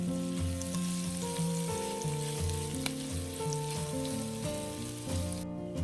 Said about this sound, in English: Then, add the onion. Next, the sliced garlic. Stir it for 2 minutes.